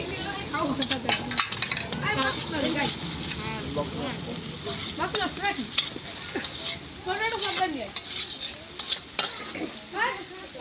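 Masala spices sizzle and fry in a pot at an outdoor village picnic, with repeated scraping stirs throughout and people talking over the cooking.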